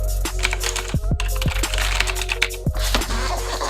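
Keys on a Razer BlackWidow Ultimate mechanical keyboard are typed in a quick irregular patter of close, crisp clicks, with occasional louder thocks over a steady background hum.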